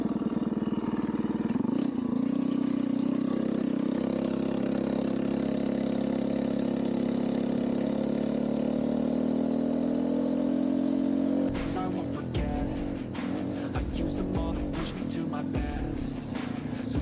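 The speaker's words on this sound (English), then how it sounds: "This motor, anything I put this thing on, one pole starts right up." A Phatmoto Rover 49cc four-stroke motor idles with a steady, close mechanical drone, then rises into a rougher, louder run punctuated by clattering knocks near the end.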